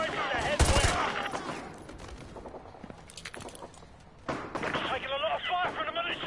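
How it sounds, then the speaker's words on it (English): Call of Duty Modern Warfare firefight with militia in a market, bursts of rapid gunfire and sharp shots, loud and close, with shouted voices between volleys. "Taking a lot of fire from the militia!"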